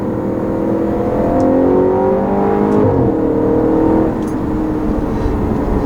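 A 2013 Audi RS5 engine revs while driving, a loud, close, steady drone with rising and falling harmonics as the revs climb, heard alone without talk.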